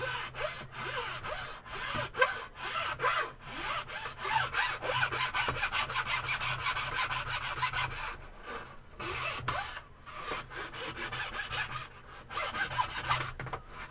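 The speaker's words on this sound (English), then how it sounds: "Let me use the crappy file so I don't clog my good ones" Hand file rasping across a workpiece in steady back-and-forth strokes, fairly quiet and close, with rhythmic scraping that pauses briefly now and then.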